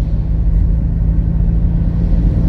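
A truck on a curving road between Lumajang and Probolinggo in the late afternoon gives a loud, steady low engine rumble close by, with the drone holding constant throughout and no voices.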